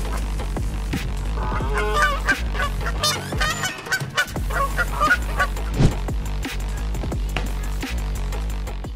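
A flock of geese honks loudly and insistently near a herd of cattle, harsh overlapping calls rising and falling close by over a low steady rumble.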